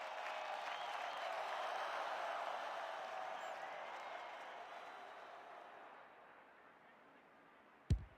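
A crowd at a women's Australian football (AFLW) match cheers and applauds in a broad, steady roar that gradually fades, with a sharp knock near the end.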